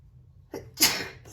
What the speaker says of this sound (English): I feel like I'm about to sneeze